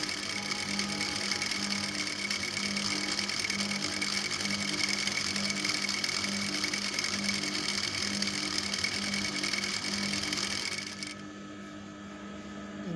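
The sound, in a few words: sewing machine stitching skirt palazzo legs together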